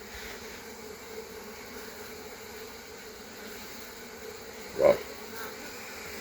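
Honey bees hum steadily around an open Langstroth hive during an inspection of frames with cross-built comb, a dense, even drone close by throughout, with one short spoken exclamation near the end.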